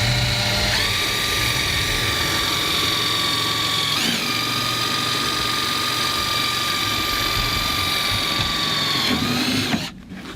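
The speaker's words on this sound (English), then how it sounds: "That way I can use the impact driver instead of having to have a drill also to pre-drill my holes." An impact driver with a 1/8 inch hex-shank bit drills a pilot hole for a pop rivet through a metal shed roof joint: a loud, steady high whine that holds for about ten seconds, then cuts off abruptly.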